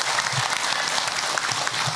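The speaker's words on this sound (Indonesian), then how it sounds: "Tepuk tangan buat ibu." Short round of steady applause from a gathering at an Islamic religious talk, a continuous patter of many hands clapping with no speech over it.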